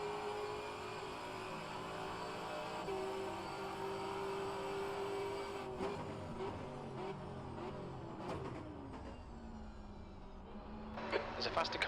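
Race cars in the rFactor2 racing game at the Detroit Grand Prix drone and rev steadily, with rising and falling engine pitches and a voice talking over them.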